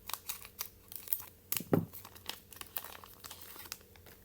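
My Little Pony card game booster packs are torn open, giving loud, close crinkling and ripping of foil wrappers in irregular bursts, with one sharp tear in the middle and no speech.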